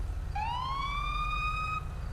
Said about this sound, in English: Both of the sirens sound pretty good.